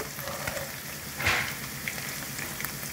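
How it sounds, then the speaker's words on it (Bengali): Paneer frying in oil in a pan gives a steady, close crackling sizzle with a brief louder hiss burst partway through, with no talk. "বন্ধুরা দেখুন পনিরটা ভেজে তুলে নিয়েছি"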